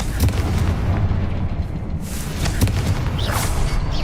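Explosive Confringo spell blasts in the Hogwarts Legacy video game land as repeated booming bursts over a dense, loud rumble of combat noise.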